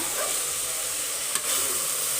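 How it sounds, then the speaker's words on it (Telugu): Tempering sizzling in a pan for a black-eyed pea sambar, a steady, moderately loud hiss that holds evenly for about two seconds with no talk. "సాంబార్కి"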